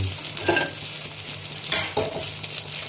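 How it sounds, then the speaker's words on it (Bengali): Steady sizzling of eggplant slices frying in hot oil, with a couple of brief scraping stirs in the pan. "বেগুনগুলো ভাজা হয়ে গেছে"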